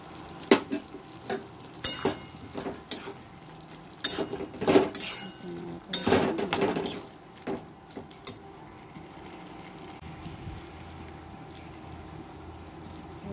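A vegetarian curry with ghee being stirred in a pan: sharp spoon knocks and scrapes against the pan, with bursts of stirring in the first half, then a low, quieter background sizzle, with no speech.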